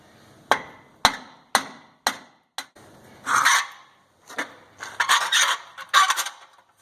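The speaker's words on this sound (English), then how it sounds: "if this won't do it, we'll have to get the big hammer" Hammer blows on the front axle parts of a 2010 Ford F250 4x4 ring out one after another, four evenly spaced metal strikes, then a quicker flurry of heavier banging and clanking up close.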